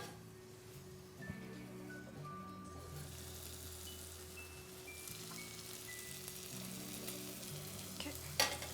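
Tomatoes with cumin sizzle and bubble in a covered pot for a beef stew, a steady close frying crackle with no talking and a faint clink near the end.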